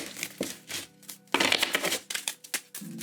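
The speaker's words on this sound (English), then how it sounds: "We're going to get one more shuffle." Tarot cards shuffled by hand in a series of crisp riffling and slapping bursts, close up, with short pauses between bursts.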